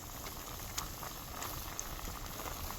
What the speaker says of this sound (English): Just the meat water that you're seeing of boiling